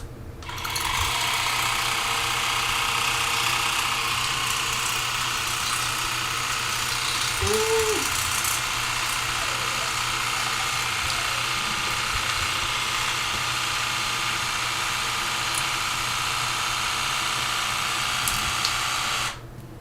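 A portable travel water flosser hums with a steady, close electric motor drone for about twenty seconds, with one brief knock partway through.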